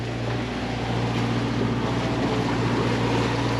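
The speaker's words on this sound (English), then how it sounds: "we're just motor sailing on out" A Beneteau 45 sailboat motor sails at sea, its engine giving a steady low drone under a broad wash of wind and water, continuous and loud throughout with no voices.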